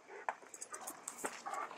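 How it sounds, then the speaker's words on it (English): A big dog whimpers softly nearby outdoors, short faint whines and snuffles in a quiet setting. "Big old dog."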